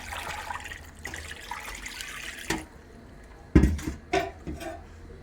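A steady trickle of water flows, followed by a few distinct splashes and clunks as water is poured into a pot with turmeric for cooking stingray fish.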